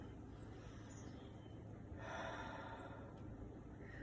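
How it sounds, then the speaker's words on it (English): One shallow chest breath, drawn in through the mouth in a single audible gasp-like inhale, quiet and close against faint background hum. "We will habitually breathe more shallowly, using our chest and shoulders, and filling our lungs from the top to the bottom"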